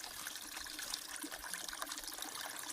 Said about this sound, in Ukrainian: як гарно дзюркотить вода.